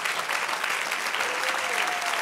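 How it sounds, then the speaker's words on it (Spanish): A church congregation applauds together, dense steady clapping filling the room with a faint sustained tone running underneath near the end. "Del aplauso al Señor."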